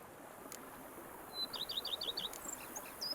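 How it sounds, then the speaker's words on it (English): In The Witcher 3, a bird repeats quick bright chirps in a short run over a soft, hissing outdoor ambience. "Bees buzzing, birds chirping."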